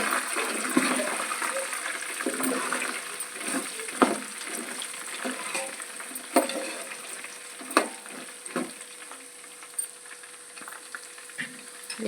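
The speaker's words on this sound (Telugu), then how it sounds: "చూడండి, పల్లీలు వేగినాయి." Peanuts and roasted gram fry together in a pan, giving a soft sizzling crackle under repeated scraping and clinks of stirring at close range.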